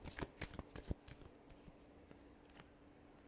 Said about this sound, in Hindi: चलिए देखते हैं लास्ट शफल।